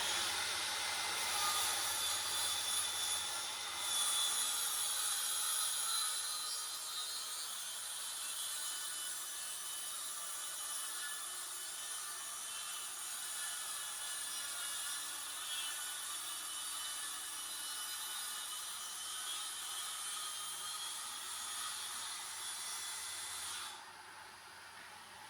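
A track saw runs along a guide rail through a sheet of material, giving a steady, fairly faint whining hiss of cutting that holds for about twenty seconds before stopping.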